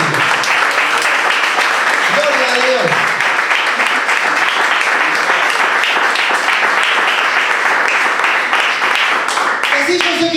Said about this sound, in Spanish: ¿Cuánto le dan un aplauso al Señor? Vamos, bien fuerte.